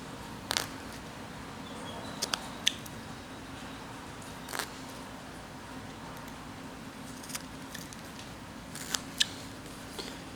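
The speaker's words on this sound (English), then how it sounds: "Let's cut in." A knife cuts into a block of wood during whittling, giving faint, sparse scraping clicks and small sharp snicks at irregular intervals over a quiet background.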